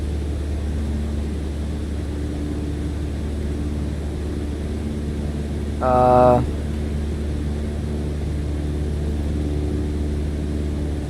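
A Cessna 150's engine drones steadily in flight in Microsoft Flight Simulator 2020, a constant low hum through the whole stretch, with a brief burst of brighter tonal sound about midway.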